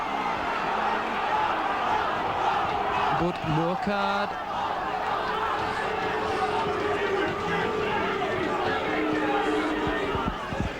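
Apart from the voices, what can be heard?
rugby crowd voicing displeasure at tackles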